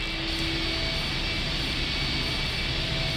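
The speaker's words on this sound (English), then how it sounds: "The engine's starting up again." Engine starting up in the point-and-click game I Have No Mouth and I Must Scream, a loud, continuous roaring drone with a steady whine, filling the whole moment without change.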